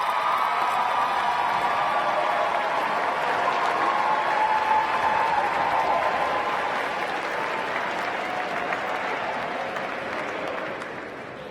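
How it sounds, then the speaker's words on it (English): Graduates at a school recognition ceremony give their families and supporters a long, rousing round of applause from a large crowd, steady and full before tapering off at the end. "graduates, please turn around and give them all a rousing round of applause for all of their support"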